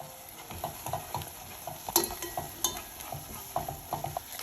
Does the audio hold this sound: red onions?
yes